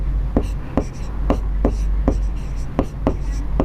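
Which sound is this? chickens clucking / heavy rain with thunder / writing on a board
writing on a board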